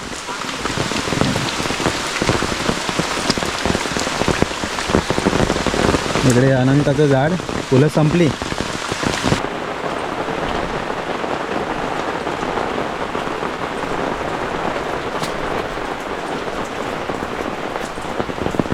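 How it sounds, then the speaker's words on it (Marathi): Heavy monsoon rain pours steadily onto a village courtyard in the Konkan, a dense continuous hiss, with a person speaking briefly partway through. "ताई गावाकडचा पाऊस अनुभवते."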